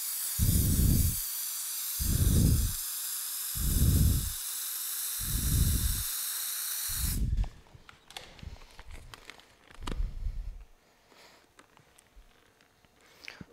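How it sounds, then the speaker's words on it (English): A handheld steamer hisses loudly in bursts while steaming paint protection film on a Porsche mirror, followed by quieter pulsing thumps and faint handling noises once the hiss stops. "And now what you want to do is steam this area."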